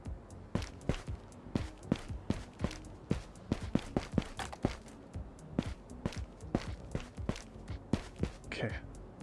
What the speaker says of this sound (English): where are those footsteps gone now?